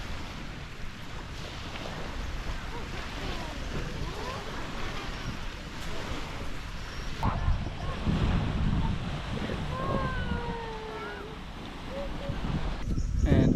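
On a beach at Malcapuya Island in Coron, Palawan, surf rolls in under constant heavy wind buffeting the microphone, a dense and steady roar with occasional louder swells.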